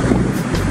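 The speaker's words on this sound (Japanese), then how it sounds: "今風で体が吹き飛ばされそうになりましたが、強烈な温床を正面から吹いてますね。" A strong onshore wind on a beach buffets the microphone, making a loud, low, continuous rumbling roar in a brief gust.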